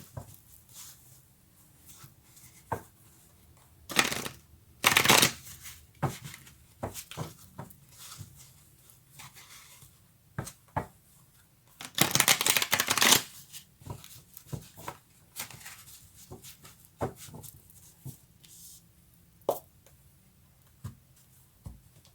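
Tarot cards shuffled by hand in a few short riffling bursts, the loudest near the middle, between quiet taps and handling noises at close range with no talk.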